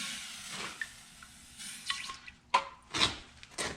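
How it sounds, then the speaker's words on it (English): A hot piece of aluminium gets quenched in water, giving watery splashes and sizzling drips in a few close bursts, with no talk over them. "And I'm just quenching it in water."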